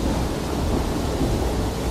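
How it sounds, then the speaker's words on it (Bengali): A dense, steady wash of heavy rain with low thunder rumble runs loud and continuous throughout, with no voices. "বৃষ্টি থামবার কোনো লক্ষণ নেই"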